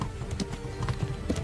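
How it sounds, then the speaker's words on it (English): Horse hooves clip-clopping at a riding pace on a path in Kingdom Come: Deliverance, a soft, even rhythm of hoofbeats under a low ambient bed. "When riding, you can give your horse its head and it will stick to the path you're on"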